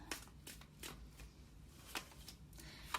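Tarot cards are shuffled by hand in a quiet room, a series of soft, crisp riffles and slaps repeating in an irregular rhythm close by.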